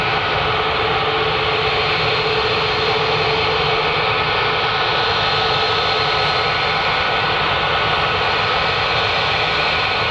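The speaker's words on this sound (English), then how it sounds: "This 737 is 6 years old." A six-year-old Boeing 737 runs its jet engines at Manchester Airport, giving a loud, steady, broadband roar that holds without pause throughout.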